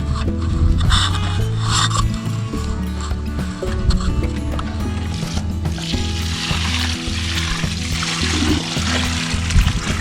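Water pours and splashes into a worm farm bed full of worms and food scraps, a rushing, gurgling flow that swells and continues throughout, loud and close.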